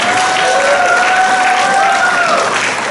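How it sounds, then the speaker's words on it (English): Large audience at a technical delegation event applauds in a dense, loud, continuous roar of clapping, with a sustained tonal voice or cheer gliding through the middle. "give a big applause to all of us to be part of this history"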